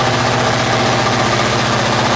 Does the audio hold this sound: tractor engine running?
yes